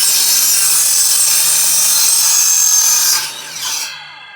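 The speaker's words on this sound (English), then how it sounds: "just a box store chop saw, miter saw" A budget box-store chop saw (miter saw) slices through wood in a loud, sustained high-pitched whine that cuts out near the end as the blade spins down.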